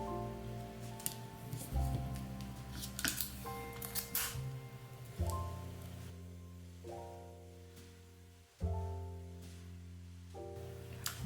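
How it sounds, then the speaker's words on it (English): Tape is pulled and pressed to hold fabric straps on a handmade Santa plushie, giving close crinkling and rubbing sounds with a few sharp ripping bursts of tape unrolling. "I'm just going to place the first one and tape it in place."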